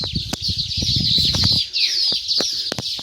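A busy chatter of baya weaver birds flutters around their nests above a dry well, with dense overlapping chirps and soft wing noise close by, all carrying on without any voices.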